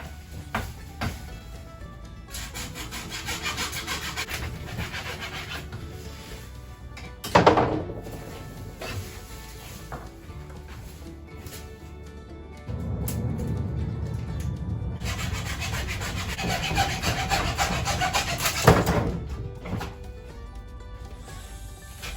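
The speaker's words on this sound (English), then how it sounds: "So I'm gonna cut it real quick, and then we're gonna take it to the bandsaw" A palm frond is cut by hand with repeated rough rubbing and sawing strokes, close and fairly faint, broken by a sharp thunk partway through and a louder stretch of cutting later.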